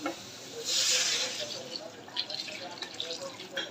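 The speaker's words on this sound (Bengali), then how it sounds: "এখন গরম পানি দিয়ে দিব" Hot water poured into a frying curry of pointed gourd, onion and spices, a loud hissing rush as it hits the hot pan that settles into bubbling and crackling, close by.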